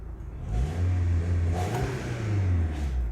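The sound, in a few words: chipped VW car engine revving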